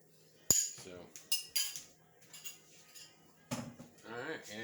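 A utensil scrapes and clinks against a bowl while stirring pet food, with several sharp taps and rattles spaced through the stretch and a voice talking in between.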